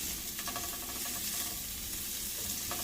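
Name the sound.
shrimp frying in a pan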